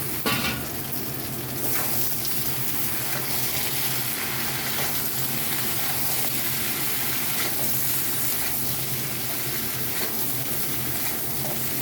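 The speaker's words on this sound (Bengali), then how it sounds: "ডিম কুমড়ো ভেজে নেব" Pumpkin frying in a pan for a Malabar spinach dish: a steady, close, loud sizzle that runs unbroken throughout with occasional stirring scrapes, and no talking.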